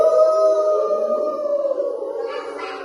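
Young kindergarten children imitate a dog's howl in one long, sustained, wavering note that is loud at first and fades gradually toward the end.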